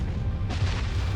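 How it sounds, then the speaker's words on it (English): A deep, rumbling boom portraying a supernova's colossal explosion as the star's iron core collapses, with a sustained low roar and a brighter rushing swell halfway through. "the collapse of the iron core blows apart the rest of the star in a colossal explosion"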